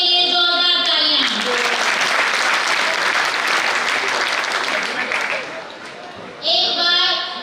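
An audience at a company recognition event bursts into loud, sustained applause for the show. A voice speaks just before the clapping swells, and speech returns as it fades.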